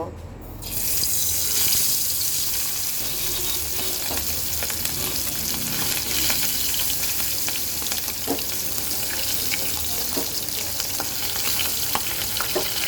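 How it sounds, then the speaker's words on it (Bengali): Tengra fish fry in hot oil in a wok, giving a steady, dense sizzle with scattered pops and crackles that starts abruptly and runs on without any talking. "তো চলো সুন্দর করে মাছগুলো ভেজে নেই"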